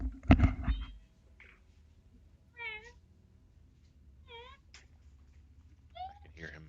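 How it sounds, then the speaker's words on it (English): A cat meows three times, clear and fairly close, with pauses between each call, after a loud thump at the start and a faint background hum. "I hear Mama Cat meowing."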